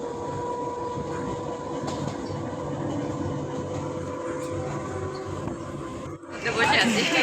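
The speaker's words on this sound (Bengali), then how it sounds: "স্টেশন থেকে বেরিয়ে গেছে ট্রেন।" A passenger train pulling out of a station near Kolkata, heard from inside as a steady rumbling ride with a tonal hum, people chattering in the background and a louder burst of noise at the end.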